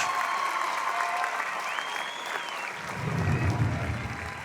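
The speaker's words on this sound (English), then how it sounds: "Brings great elation from the crowd here in Washington" A crowd in Washington cheers and applauds a called third strike at a Pony League World Series baseball game. A broad burst of clapping and shouting swells toward the end while a commentator talks over it.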